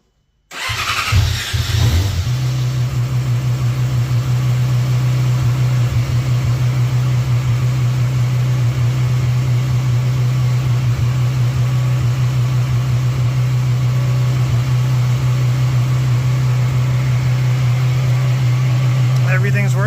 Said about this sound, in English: I'll get it fired up and look at the lights.